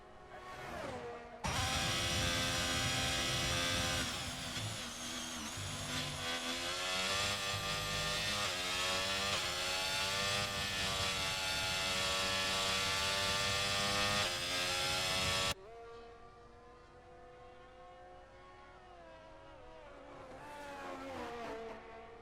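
A Ferrari Formula 1 car screams through a lap of the Spanish Grand Prix in a realistic racing video game, its high-revving engine loud and continuous with gear changes, then dropping away to a quieter drone as another car whines by.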